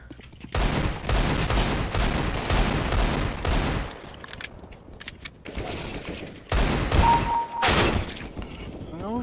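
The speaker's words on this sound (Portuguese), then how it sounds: "Maria, dá 20 tiros no Gabriel, ele não morre" CS:GO gameplay: loud bursts of rapid in-game gunfire come in several volleys separated by brief quieter gaps, with faint voices in between.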